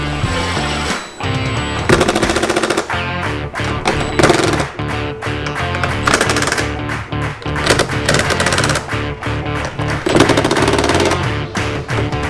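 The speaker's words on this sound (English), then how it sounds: "Here we go, bolts are going back in." Bolts are driven back into the bodywork of a Yamaha XJ650 Turbo with a power tool, in loud, repeated rapid rattling bursts separated by short pauses, close to the microphone.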